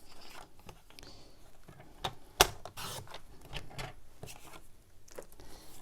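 Scissors or a paper trimmer cutting scrap paper for a card project, a brief crisp slice among soft rustling and handling noises, close and fairly quiet.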